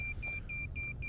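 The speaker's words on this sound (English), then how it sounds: "You can hear the alarm beeping" Alarm on a model rocket launch controller, readied for a flight on a C63 motor, gives a steady series of short high electronic beeps in even rhythm over a low background rumble.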